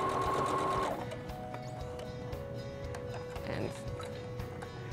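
A sewing machine runs a topstitch on fabric, whirring loudly at first and then settling into a quieter, even mechanical hum, close by, with talk over it.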